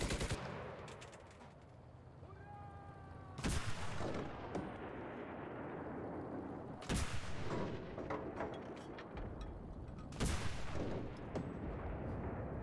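Artillery fire in the video game Enlisted: loud heavy booms land about every three seconds over continuous battlefield gunfire and rumble, with no talking.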